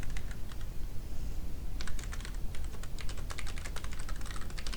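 Fingers tapping steadily on a computer keyboard, a close, quiet stream of rapid clicks with short pauses and bursts, over a soft background hiss.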